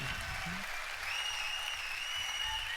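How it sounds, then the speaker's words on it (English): Steady applause and cheering from a large audience at a Ubisoft E3 press conference, dense, continuous clapping filling the hall, with a little whooping riding on top throughout. "This cheering feels slightly fake."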